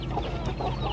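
Chickens clucking close by in a short, busy burst of overlapping calls, loud and continuous for about a second, with no speech over them.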